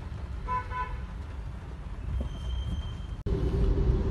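Gurgaon to Delhi traffic jam, with a steady rumble of idling traffic and a few short, clear car horn toots early on, nearby and moderately loud, then a brief dropout before the engine drone resumes.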